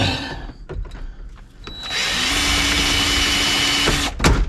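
Power drill whirring steadily as it bores out rivets inside a Chevrolet Silverado truck cab during an interior overhaul, a few short bursts followed by one sustained loud run up close, then a brief clatter.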